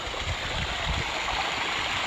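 Water from a newly built waterfall pours into a nature pond, giving a steady, faint rushing wash with low gurgles and no voices.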